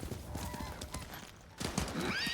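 A horse in the video game Ghost of Tsushima whinnies loudly over a steady clip-clop of hooves, the neigh rising and wavering near the end.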